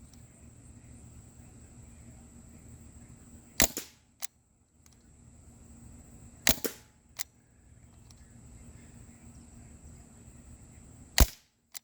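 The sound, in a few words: Crosman 1077W CO2 air rifle shooting pellets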